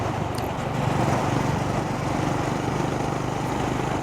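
Honda H'Ness CB350 motorcycle running with a steady, close thumping exhaust note, a loud continuous engine rumble with no speech.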